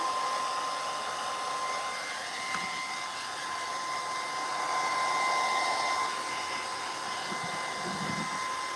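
A hair dryer runs steadily on paint for the whole stretch, a constant loud whirring blow with a thin whine, with no talking over it.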